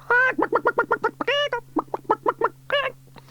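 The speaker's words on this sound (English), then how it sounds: "lifted out a very noisy chicken" A hen clucks close up in a rapid run of short, throaty notes, broken by a couple of longer, drawn-out squawks, over a low steady hum.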